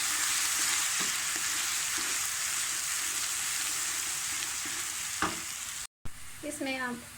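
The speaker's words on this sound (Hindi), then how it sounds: "अब उसमें लहसुन अदरक का पेस्ट, इसको 2 मिनट भूनें।" A steady, loud sizzle of garlic ginger paste frying in a hot pan, with a few scraping stirs and a brief cutoff near the end.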